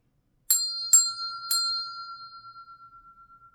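A small metal bell is struck three times in quick succession, each bright ding overlapping, then the tone rings on and slowly fades in a quiet room.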